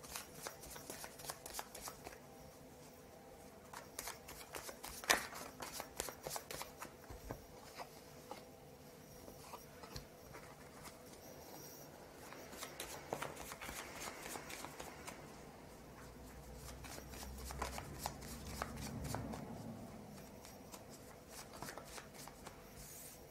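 A Lenormand card deck is handled up close, with soft, irregular shuffling, sliding and tapping of cards over a long stretch and some quiet rustles in between.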